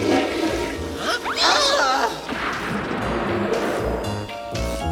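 Cartoon toilet flushing as characters escape down its drainage pipe, a loud swirling, gurgling rush of water with bubbling and sliding sound effects over a few seconds.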